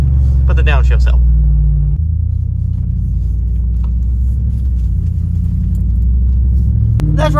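A Ford Raptor pickup tows a trailer carrying a truck with a 6.7 Power Stroke engine, giving a steady loud low rumble of road and engine noise with a brief shift near the middle, while people talk briefly over it.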